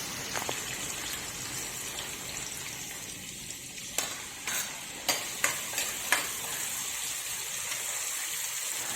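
Steady sizzling of chopped onions frying in hot oil, with a few sharp clinks and scrapes of stirring partway through; no talking.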